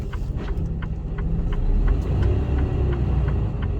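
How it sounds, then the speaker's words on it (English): A truck hauling a trailer gives off a steady low engine rumble and road roar as its wheels spin, loud and continuous throughout with faint periodic clicks above. "Wheels spinning away."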